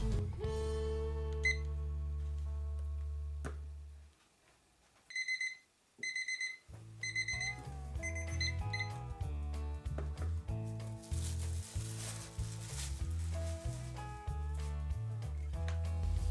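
Kitchen timer going off during sourdough bread making, a clear run of repeated electronic beeps in short bursts partway through, heard alongside music in the background.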